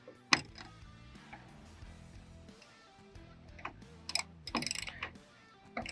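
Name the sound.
tightening GateGuard tailgate latch guard with a ratchet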